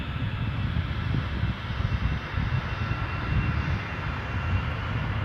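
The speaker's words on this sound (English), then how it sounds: "We're just going to cut to the Aer Lingus takeoff" An Aer Lingus jet airliner roars down the runway on its takeoff roll at Edinburgh Airport, a loud, steady, broadband engine rumble that holds strong throughout.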